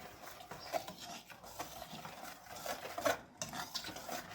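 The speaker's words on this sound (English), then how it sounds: "I will give this a good stir" Cake batter with salt and cocoa powder gets stirred in a bowl, a soft continuous scraping and swishing with faint clinks, close and quiet with no talk.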